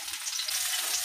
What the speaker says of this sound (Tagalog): Papainit po muna tayo ng mantika. Ayan po, mag-gisa na tayo ng bawang.